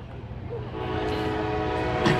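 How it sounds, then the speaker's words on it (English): A train horn sounding at a slugburger eating championship event, a sustained tonal blast over crowd and background noise, fairly loud and steady through the moment. "It's a train's way of saying congratulations."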